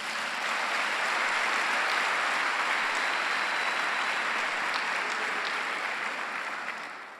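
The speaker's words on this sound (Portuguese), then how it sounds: "Dá um aplauso a Jesus." A congregation at a Sunday church service breaks into sustained, even applause, a dense wash of many hands clapping at moderate distance that tapers off at the end.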